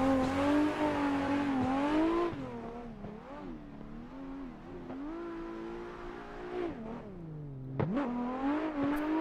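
A Nissan 180SX with a 2JZ engine in a racing video game revs through mountain roads, its engine tone rising and falling steadily with sharp rev-bang pops near the end.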